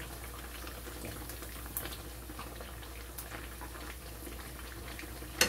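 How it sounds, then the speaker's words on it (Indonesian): Tofu frying in hot oil, a steady dense sizzle and crackle of bubbling fat that runs continuously with small pops throughout, heard close up with no talking. "Aku kalau goreng tahu harus kering."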